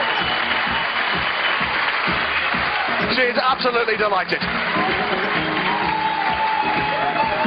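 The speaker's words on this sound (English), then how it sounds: "You can hear the roar of the crowd for the Austrian." A crowd roars and applauds at a bouldering World Cup final in Innsbruck, Austria, as an Austrian climber competes. The sustained cheering runs throughout beneath a commentator's talk.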